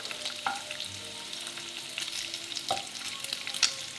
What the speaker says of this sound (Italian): ci mettiamo dentro il pane e lo tostiamo bene bene da tutti e due i lati